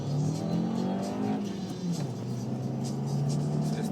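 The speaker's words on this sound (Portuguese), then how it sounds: "vou tentar fazer um videozinho acelerando o carro" A VW EOS TSI 1.4 16v car accelerating after pulling out of a toll plaza, its steady engine drone rising and holding in pitch, continuous and fairly close, with no talking.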